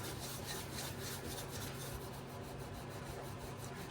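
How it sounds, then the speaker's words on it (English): Close, quiet rubbing of rust off the white patio paint of a John Deere 140 H1 patio tractor with WD-40, a steady scratchy scrubbing that continues without pause. "when you go over with this WD-40, it'll take a lot of this rust off"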